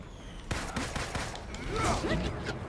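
Gunfire in the video game Marvel's Avengers: a burst of rapid shots and thuds begins abruptly and carries on amid game effects, with a voice talking faintly in the background.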